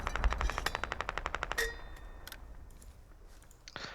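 Machine gun fire in a video game battle: a rapid, evenly spaced burst of shots ends abruptly, followed by a metallic ring, a few quieter clanks and one last distant shot.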